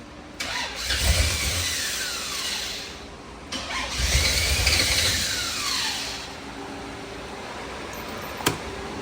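A carbureted 454 Chevy V8 restarts twice: each time a loud burst of cranking catches and revs up, then eases back. A faint sharp click comes near the end.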